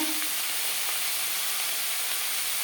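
Ginger paste goes into a hot pan for Bengali muri ghonto and sizzles into a steady, dense hiss. The hiss stays at an even level for the whole stretch, with no voices.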